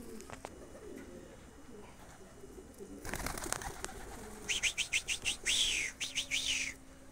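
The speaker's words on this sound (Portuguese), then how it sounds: "Vamos deixar essa pombada entrar." Pigeons on a rooftop slab cooing and fluttering, with a rapid series of repeated calls building in the second half, fairly close, over light background noise and a few sharp knocks.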